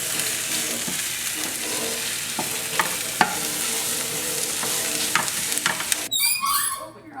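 A little spoon stirs pepper around a pan, scraping and clinking against the metal over a constant close sizzling hiss, with a brief clatter near the end.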